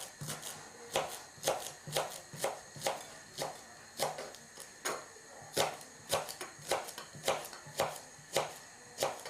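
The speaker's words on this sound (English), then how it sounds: "just finely chop the spring onion" A knife finely chops spring onion on a cutting board in quick, regular taps, close and crisp, with brief pauses between runs of strokes.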